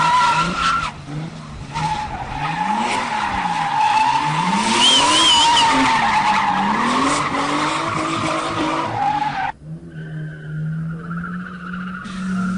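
Race cars skid and squeal their tires at a car race event, repeated sweeping screeches over loud engine roar, followed by a sudden drop to a quieter steady engine hum.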